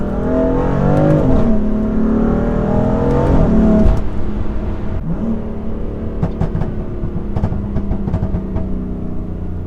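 A 580-horsepower BMW M3 with a loud aftermarket exhaust revs hard and blips on a downshift, rising in pitch and dropping sharply, then settles into a steady, roaring drone close by.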